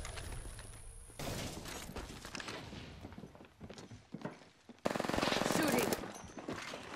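Gunfire rattles in the Apex Legends battle royale game. Bursts of rapid shots come in clusters amid scuffling movement and mechanical clicks, with a loud, dense stretch of firing near the end.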